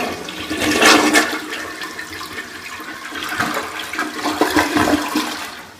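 A toilet in an on-campus apartment bathroom flushes with a loud rushing gush of water that swirls and churns steadily for several seconds, close by and with no talk.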